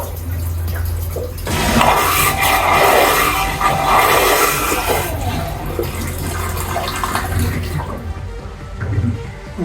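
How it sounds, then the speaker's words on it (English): Economy-mode flush of a Raymarine automated toilet in the head of an Aquila 32 power catamaran: a steady rush and gurgle of water pumping through the bowl for several seconds, then tapering into drips and a faint trickle. "It's an automated flushing system ran by the Raymarine flushing system here."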